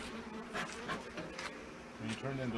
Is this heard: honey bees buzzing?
yes